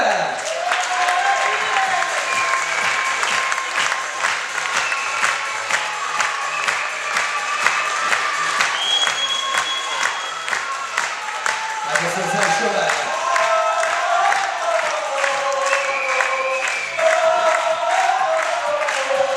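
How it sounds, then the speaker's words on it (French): Sustained applause from an audience at a show presentation in Port Camargue, many hands clapping steadily for a performer, loud and dense with some crowd noise mixed in. "Un tonnerre d'applaudissements pour Nabil."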